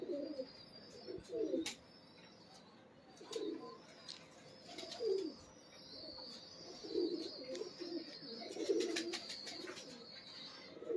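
A lakha pigeon coos in low, rolling bursts repeated through the stretch, close by, with brief higher bird chirps scattered above.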